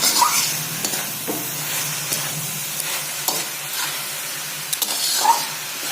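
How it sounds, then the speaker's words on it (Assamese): Grated coconut frying in a pan for coconut laddu, a soft sizzle with intermittent scraping stirs, moderate and close, without talk. "নাৰিকলখিনি ভাজি হৈ গ'ল"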